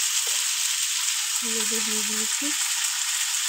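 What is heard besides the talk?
potatoes and carrots frying in cumin-tempered oil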